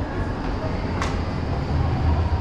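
Metro train rumbling through a station of the Milan underground, a steady loud low roar with a brief high screech near the middle, no clear talk over it.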